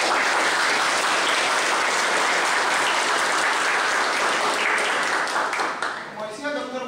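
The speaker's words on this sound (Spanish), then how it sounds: "Un fuerte aplauso, por favor" Sustained audience applause at a university lecture in Peru, dense and loud from the start, thinning out in the last second as a voice begins speaking.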